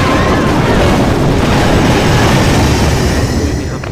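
Log launcher rolling through a base in Clash of Clans, a loud continuous rumbling clatter like a heavy train rolling, steady throughout with no talk.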